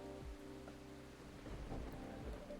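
Rain falls steadily while low rumbling thunder rolls underneath, soft and distant throughout a brief stretch with no voices.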